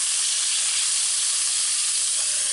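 Pork chops sear in a Dutch oven with a loud, steady hiss and sizzle that carries on unbroken, nearby and alone.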